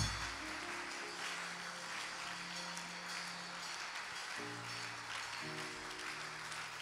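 A church congregation applauding and acclaiming Jesus, a steady wash of clapping hands throughout, moderately faint, with sustained organ-like musical tones underneath.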